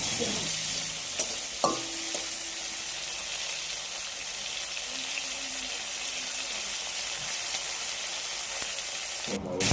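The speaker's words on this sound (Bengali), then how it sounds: "আগে থেকে নুন হলুদ মাখিয়ে রাখা চিংড়ি মাছগুলো তুলে দিয়ে ভেজে নেওয়া হলো।" Prawns coated in salt and turmeric fry in hot oil with a split dried red chili. A steady, fairly quiet sizzle runs throughout, with a few faint clinks near the start and end.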